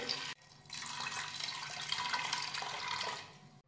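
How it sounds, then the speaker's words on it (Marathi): Toor dal being rinsed with water in a bowl in a home kitchen, a continuous close splashing and running-water wash, fairly quiet, with no talking. "ही तूर डाळ आपण स्वच्छ धुवून घेऊयात।"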